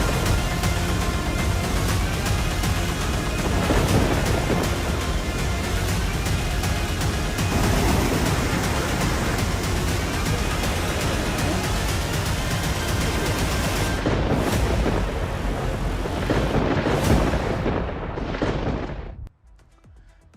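Heavy monsoon rain with thunder pours down in Valsad, Gujarat, during record-breaking rainfall. A dense, loud, unbroken roar continues throughout, then cuts off abruptly at the end.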